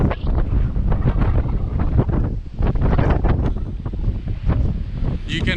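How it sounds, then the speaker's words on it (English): Strong wind gusts roar through a garden of big trees, yellowwood and hardy succulents, with close, continuous buffeting noise on the microphone and no clear speech. "the wind is pumping in this side of the garden"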